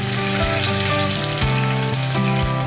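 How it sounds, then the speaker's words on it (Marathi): Crushed garlic hits hot oil with mustard and cumin seeds in a pan for Kolhapuri misal, making a loud, dense sizzle with crackling. Steady tones and low thumps run underneath, and no one speaks. "तडतडले की आपण ठेचलेला लसूण टाकूया।"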